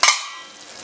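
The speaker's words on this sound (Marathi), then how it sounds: "झाकण काढते।" A lid comes off a pan of drumstick pods cooking on medium heat, giving a short, close clatter followed by a hiss of steam and sizzling that fades within a second.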